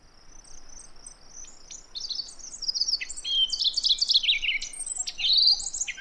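An ovenbird sings a clear, high, rising and falling phrase made of quick chirps. The song starts faint and then builds to louder, tumbling bursts over a quiet outdoor background.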